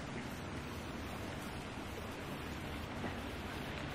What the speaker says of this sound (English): Is there water down there we can jump in? I hear it, but I don't see it.